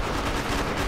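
Gunfire in a horror survival video game, a dense, continuous rattle of loud shots packed closely together in a brief burst.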